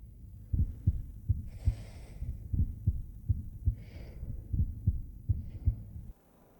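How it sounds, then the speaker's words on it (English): A man's strong heartbeat thumps in a slow, steady double rhythm, close and muffled, with faint breathing sounds drifting in above it. "I fall asleep to the sound of his strong heartbeat."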